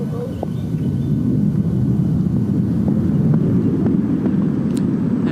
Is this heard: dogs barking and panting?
no